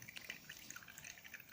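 Watermelon juice dripping as it is made, quick faint liquid drips and small splashes in a fast irregular patter, close by and with no talking.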